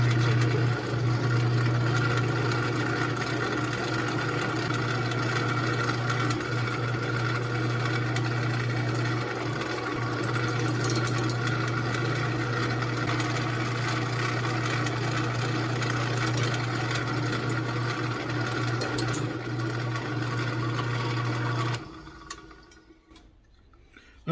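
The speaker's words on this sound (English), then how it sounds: "We're going to punch all the way through from this side all the way through the other side with this 3/16 bit." A drill with a 3/16 bit drives steadily through metal for a hitch-mount antenna mast, giving a loud continuous whirring grind with a constant hum that runs over twenty seconds, then cuts off abruptly into quiet. No one speaks.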